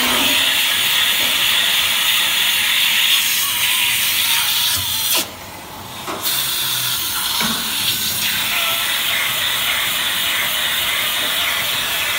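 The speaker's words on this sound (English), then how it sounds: "And then we're gonna release the cleaner. Put it onto the teat and then start cleaning." A DeLaval VMS milking robot's teat cleaner runs with a loud, steady hissing spray, briefly cutting out for about a second midway before resuming.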